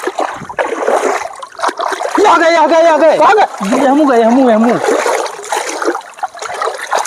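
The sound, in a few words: water splashing while bailing pond for fish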